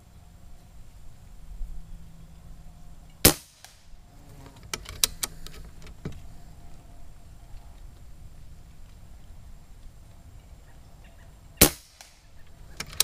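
An Umarex Gauntlet .22 air rifle fires pellets, two sharp, loud isolated cracks several seconds apart against a quiet background with faint small handling clicks between them.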